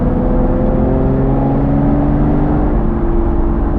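An Aston Martin V12 sports car engine roars steadily and loudly for a few seconds, its deep, layered tones shifting slightly in pitch as it revs.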